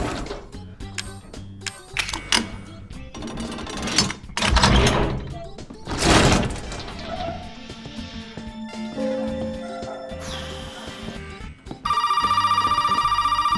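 A telephone rings inside the horror game Resident Evil 7 played in VR, its steady electronic trill sounding near and loud toward the end after a stretch of clattering mechanical game noises.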